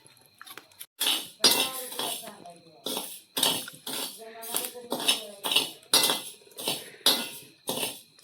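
Rice and cardamom dry-roasting in a metal pan, with a spatula clinking and scraping in a quick, uneven rhythm of loud, close strokes, some talking mixed in.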